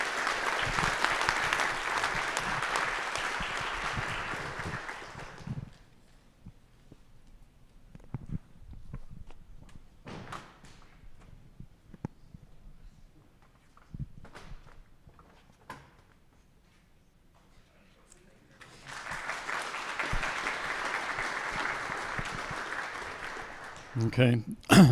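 Conference audience at HPG 2024 applauds in two bursts, a dense clapping swell at the start and another near the end, with quieter speech and stage noises between.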